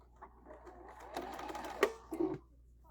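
A sewing machine starts stitching a quilt-as-you-go table runner, giving a short, close whir that builds and stutters into a few quick bursts.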